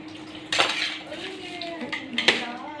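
Metal pots, pans and utensils clatter and clink as they are shifted aside during kitchen cleaning, with a couple of sharper knocks standing out among lighter rattles at close range.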